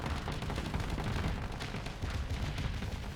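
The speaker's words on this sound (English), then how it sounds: "He's putting out a lot of little missiles." Ship-to-ship combat in the space game Starsector, with a ship launching a stream of small missiles: a dense, continuous crackle of rapid launches and impacts, steady and loud with no pauses.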